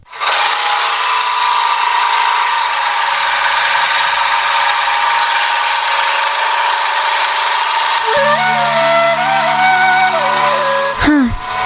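A scooter engine drones loud and steady while riding through a rubber estate, with a rising tonal whine and low hum joining near the end before a brief sharp burst.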